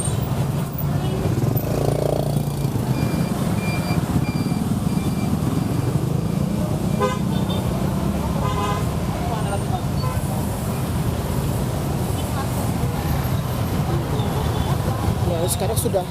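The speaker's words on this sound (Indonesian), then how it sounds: "Sekarang sudah mulai macet ya" Heavy traffic crawls along Jalan Kasablanka Raya in Jakarta near the Kasablanka busway stop, a dense steady roar of engines with brief horn-like tones. A person speaks over the din.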